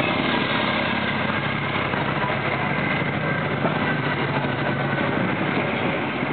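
A hot-running Vincent motorcycle engine runs continuously at a constant pitch, loud and close, with a rough, throaty drone and no breaks or voices.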